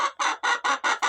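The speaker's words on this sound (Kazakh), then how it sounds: "Енді қақылтай берді." Six rapid, evenly spaced clucks from a hen near a homemade egg incubator, each burst loud and close, with no other sound between them.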